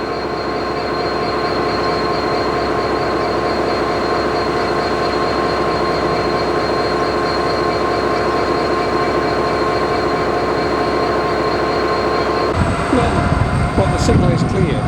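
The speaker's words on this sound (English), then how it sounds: "we listen to the notes of the engine as it idles" A Class 66 diesel-electric locomotive in Freightliner livery idles at a station platform with 23 freight wagons, a steady loud engine drone with throbbing low harmonics, then a burst of rumbling and clatter near the end.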